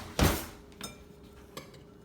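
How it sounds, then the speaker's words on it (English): Metal utensil clanks and scrapes against a bowl while flour and seasonings are stirred together, one loud knock followed by a few lighter taps, close and alone. "So just kind of stir up your ingredients until the flour and the seasonings all look pretty well blended."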